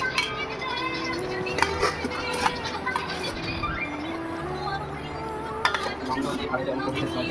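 Plates and cutlery clink and scrape intermittently as two people eat a home-cooked lunch, with sharp metallic taps standing out over a low background hum and faint voices.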